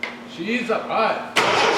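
A 1973 Triumph TR6 engine being started during restoration, with starter cranking and voices leading into a sudden loud, broadband burst as the engine catches and runs.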